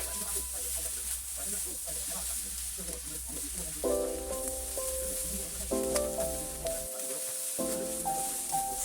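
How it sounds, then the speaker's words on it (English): Shrimp fried rice with eggs stir-frying in a wok, a continuous low sizzle with intermittent tossing under a speaking voice and a steady background hum. "now there's some liquid in the wok, so that's why we need stir fry little bit"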